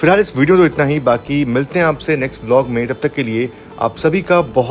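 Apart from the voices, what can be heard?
No distinct noise like a dog, phone or traffic.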